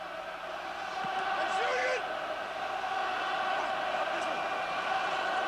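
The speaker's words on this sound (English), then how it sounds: "And just listen to that crowd." A large football stadium crowd at a 1976/77 Schalke 04 versus HSV match gives a steady, distant roar and murmur that hangs evenly behind the scene without sharp peaks.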